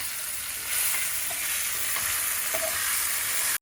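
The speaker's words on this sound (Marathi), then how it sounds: "मी विचार केला आधी आपण मस्त वांग फ्राय करून घेऊ" Brinjal frying in hot oil in a pan makes a loud, continuous, close-up sizzling hiss that holds steady for several seconds and then cuts off abruptly, with no talking.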